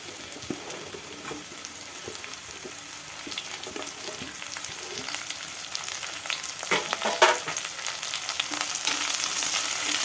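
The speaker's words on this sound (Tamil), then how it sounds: "வெங்காயம் இந்த அளவுக்கு வதங்கினதுக்கப்புறம் நம்ம கோவக்காயை போட்டுக்கலாம்" Ivy gourd dropped into a pan of sautéed onions, frying with a steady crackling sizzle throughout, with stirring scrapes that grow busier toward the end.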